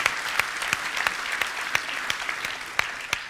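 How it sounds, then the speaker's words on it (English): An audience at a corporate keynote event applauds continuously, with dense clapping and a few sharper individual claps standing out, no talk over it. "I think it's important to give a big round of applause to our team"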